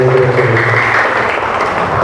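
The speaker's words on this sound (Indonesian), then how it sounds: "Kita kasih tepuk tangan sekali lagi coba." Applause from a theatre audience for performers after a long stage production, a loud steady wash of clapping up close, mixed with tonal voices or sound in the room.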